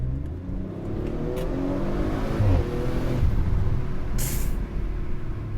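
A 2023 Audi RS4 B9 cruises at a relaxed, moderate pace, giving a steady engine hum and road drone from inside the cabin, with a brief higher hiss partway through.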